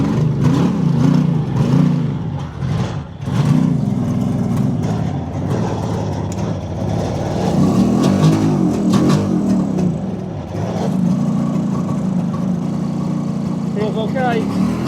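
A vintage Suzuki GT750 'Kettle' motorcycle with an exhaust leak starts and runs at a steady, loud idle with uneven surges close by, alongside occasional clanks.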